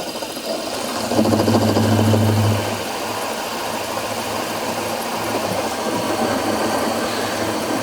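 A mini lathe runs at 800 RPM with a steady mechanical hum and whir, close by, briefly louder with a low tone for a couple of seconds before settling back to an even running sound.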